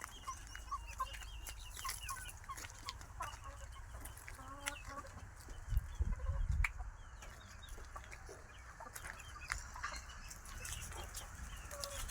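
Chickens cluck softly at a distance amid quiet outdoor ambience, with occasional faint bird calls and a low rumble midway.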